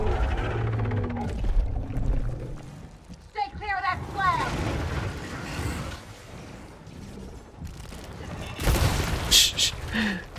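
Enemy gunfire in the turn-based shooter Gears Tactics, scattered bursts and booming impacts of moderate loudness mixed with creature-like growls and effects, with a sharp loud volley near the end.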